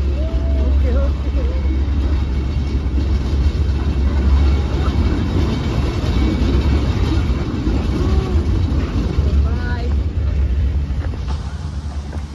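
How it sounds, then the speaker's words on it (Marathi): The Matheran hill station toy train arrives with a steady, heavy low rumble throughout, while people talk loudly nearby over it. "आणि आता ट्रेन आलेली आहे बघा."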